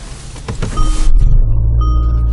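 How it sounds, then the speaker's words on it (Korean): Starter whirs briefly and the engine of a Kia K7 (All New K7) car catches with a loud low rumble, then settles into a steady, close idle. "시동 한번 걸어보겠습니다"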